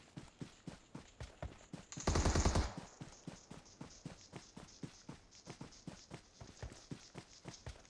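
Rapid steady gunfire in PUBG Mobile with evenly spaced shots throughout, and a brief louder burst of an automatic weapon early on.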